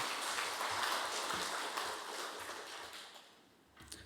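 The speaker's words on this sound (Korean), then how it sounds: "귀한 찬송을 하나님께 영광 돌리신 우리 호산나 성가대원들에게 다시 한번 큰 박수 부탁드립니다." A church congregation at a Sunday service claps for the choir, a moderate, fairly distant patter of applause that gradually thins out, ending with a few isolated sounds.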